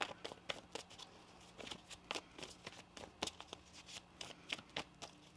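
A deck of tarot cards being shuffled by hand: a run of crisp, papery riffles and slaps in an irregular rhythm, close and fairly quiet, with no talking.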